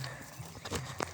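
Faint, soft hoof clops of a horse in a forest setting, a few uneven steps close by in a quiet outdoor scene.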